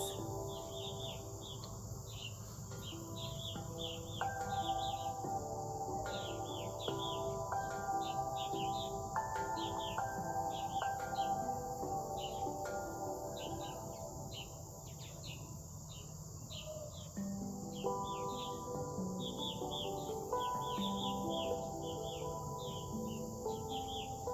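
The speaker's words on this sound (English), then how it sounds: "Listening to the birds." Many birds chirp and sing in quick, overlapping high calls over a steady insect-like hum, with a layered chorus of tones continuing throughout.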